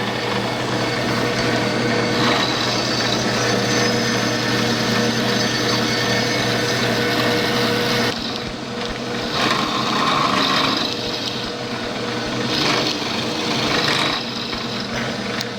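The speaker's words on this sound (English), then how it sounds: "now what I'm going to do is just mill out the inside of that" Milling machine taking very light cuts, a few thousandths deep, inside a Stuart 10V steam engine casting; a steady, dense mechanical whir with cutter chatter running continuously at close range.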